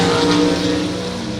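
Gasser drag race cars at Mt. Olive Dragway roar loudly and continuously at close range, a dense engine blare with no talk.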